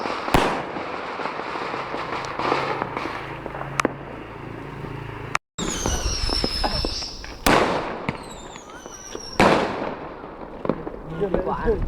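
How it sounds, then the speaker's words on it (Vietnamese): Fireworks and firecrackers bursting during Tet new year celebrations, sharp cracks and bangs scattered irregularly with whistling rockets and crackling, some loud and near, while people talk between blasts. "Phải pháo sáng."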